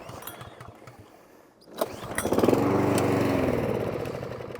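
Mountfield lawnmower with a faulty throttle cable, started on choke: a quiet pull, then the engine catches and runs at a steady, loud close drone.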